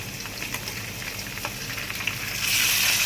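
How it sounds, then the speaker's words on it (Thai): Mackerel frying in hot oil, a continuous crackling sizzle with scattered pops, close and steady, swelling louder near the end. "ทอดปลาทูให้เรา"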